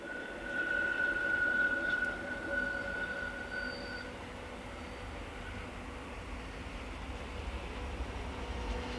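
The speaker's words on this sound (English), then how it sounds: "Its greatest train is the renowned and aptly named Glacier Express, the slowest express train in the world" The Glacier Express, a Swiss mountain train hauled by an HGE 442 rack locomotive on a rack railway, rumbles steadily and loudly with a faint metallic wheel squeal early on and no voices.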